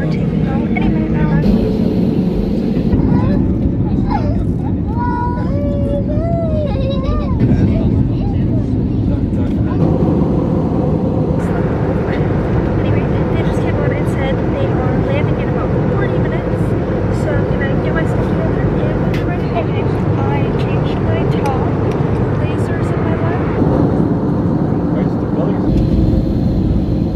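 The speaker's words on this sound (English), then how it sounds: "I'm in my seat now and we're taking off any minute now." Airliner cabin noise on a connecting flight to Brussels: a steady, loud broadband engine roar fills the whole stretch, with faint voices and brief chimes or announcements over it.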